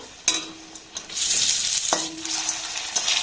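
Coconut pitha fry in a pan of shallow oil, giving a steady close sizzle with a few sharp utensil taps and clinks over the hiss.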